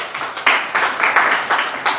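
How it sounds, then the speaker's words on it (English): An audience claps at an installation ceremony, hand claps coming in uneven bursts and swells, moderately loud and fairly close, with no talk over them. "Clap for yourselves"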